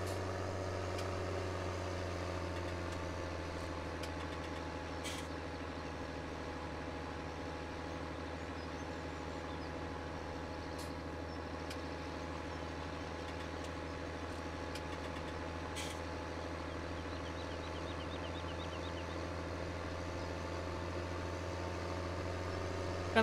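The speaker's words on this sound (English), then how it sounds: "Kind of surprised the tractor actually struggles that much pulling it up the hill." A tractor engine in Farming Simulator 17 labors uphill under load, a loud, steady low drone with a deep constant hum and faint clanks throughout.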